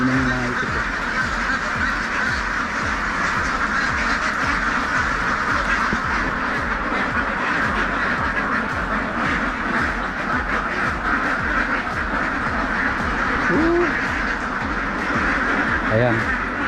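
Ducks at a newly built poultry farm quack continuously in a dense, close chorus while they drink, loud and steady throughout.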